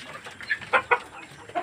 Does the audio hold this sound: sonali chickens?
yes